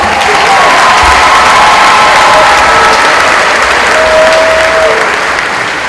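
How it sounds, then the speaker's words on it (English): A large crowd at a college new student convocation breaks into loud, sustained applause mixed with cheers and whoops, dense and continuous throughout, with faint voices rising above the clapping. "Let's give them a round of applause."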